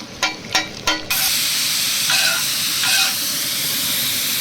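Dragon fruit and egg dropped into a hot pan for fried rice, a few quick clattering knocks and then a loud, steady sizzle with bursts of spitting hiss, close up and with no talking.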